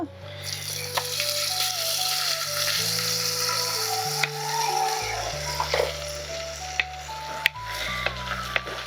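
Tempering spices sizzle and crackle steadily in hot oil in a pan, close up, with asafoetida added, while a steady electronic tone plays over it and occasional clicks punctuate the frying.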